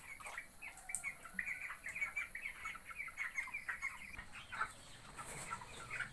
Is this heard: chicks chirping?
yes